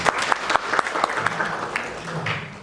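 Applause for Pak Rizky at a school legal-outreach session on bullying at SMA 2 Surakarta, scattered hand claps forming a short, moderately loud burst that thins out, with a faint voice underneath.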